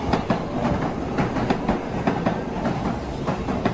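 A subway train running along the tracks, a steady loud rumble with rhythmic clickety-clack wheel beats, close and continuous with no talking.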